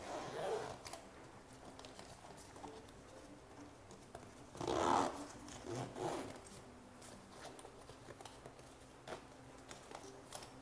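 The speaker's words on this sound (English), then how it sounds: "We can zip it up." Zipper closing on a Kånken backpack, a short rasping zip in the middle of the clip, quiet and close, surrounded by faint rustling and handling of the fabric bag.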